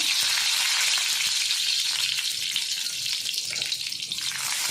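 Leaves dropped into hot oil for a mortar-pounded potato chutney, a loud, dense, steady sizzle close up that holds throughout, no talk.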